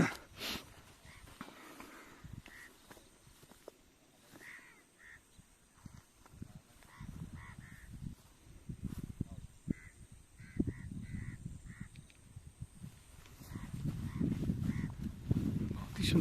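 Crows caw repeatedly alongside scattered chirps from other birds at a breezy scenic outdoor spot on Makar Sankranti, with the calls coming in short bursts over a low wind rumble that swells toward the end.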